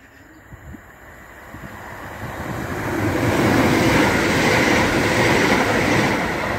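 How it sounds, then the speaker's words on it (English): ScotRail Class 170 diesel multiple unit passing through South Gyle station, its roar rising from a distant rumble to a loud, close rush with rail clatter, no voices. "Now coming through is a ScotRail Class 170 on the 1H11 from Edinburgh Waverley to Inverness."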